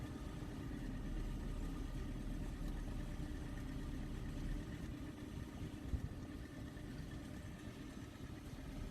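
A tractor engine runs steadily while pulling a John Deere 1600A MoCo haybine mower, a low continuous drone at moderate distance with faint mechanical rattle and no speech.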